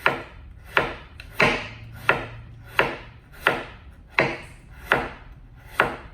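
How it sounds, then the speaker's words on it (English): Knife slicing food on a cutting board in a chef's kitchen, eight or nine distinct crisp chops spaced at an even, unhurried pace, close and clear with no talking. "I'm just going to slice and just go slowly."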